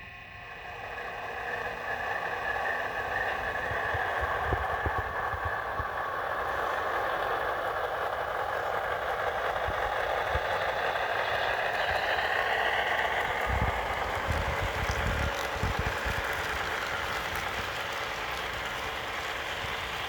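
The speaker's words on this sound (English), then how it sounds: "Just the startup sequence and the sounds of the locomotive's engine" An HO scale Broadway Limited model locomotive plays its engine sound, a steady idle, continuous droning hum with a faint whine that holds for the whole stretch, close and fairly loud.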